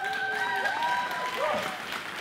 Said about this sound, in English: can we honor our pastor with a round of applause?